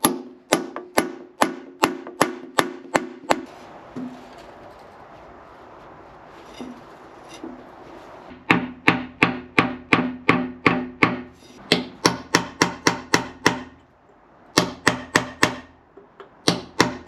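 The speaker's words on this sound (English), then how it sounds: "I've got a sort of one-sided chisel which I'm just trying to tap in the gap and see if I can get this to move" Sharp metallic hammer taps on a one-sided chisel driven into the gap of a seized screw on a Victorian radial drilling machine, rapid bursts of evenly spaced strikes separated by pauses.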